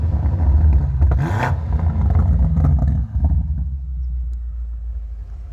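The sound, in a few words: 2020 BMW M8 engine revving, exhaust sound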